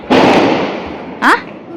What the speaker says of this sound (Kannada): ಪತಾಕಿ ಹೊಡೆದು